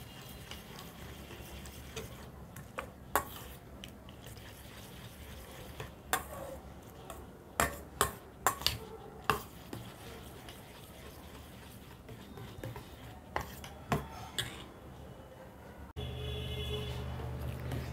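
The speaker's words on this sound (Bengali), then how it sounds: "সব আমি একসাথে ফেটিয়ে নিলাম।" Whisking ingredients together in a bowl for a tiffin snack batter, with irregular sharp clinks and scrapes against the bowl over a soft steady background, no talking.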